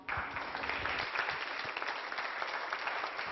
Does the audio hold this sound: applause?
yes